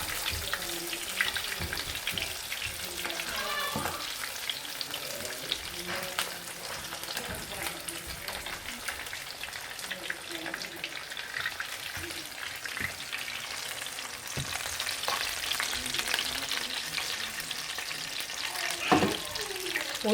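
Chicken browns in a pot for poulet yassa, with a continuous moderate sizzle and crackle over twenty seconds and occasional clinks and scrapes of handling.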